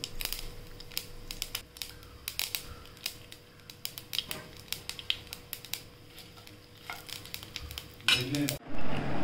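Mustard seeds crackle in hot oil for tempering curd rice, giving a steady run of sharp, close pops and clicks that grow denser near the end.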